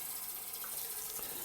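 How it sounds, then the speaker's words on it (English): Water runs quietly into a small glass as a soft, steady stream pours throughout, with no talking. "fill it with some water"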